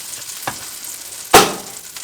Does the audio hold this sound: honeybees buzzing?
no